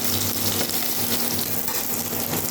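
Chopped chilli and onion fry in a pan of hot oil with spices for a Bengali pumpkin and fish curry, giving a steady, loud, close sizzle and crackle that runs unbroken for the whole stretch with no talk.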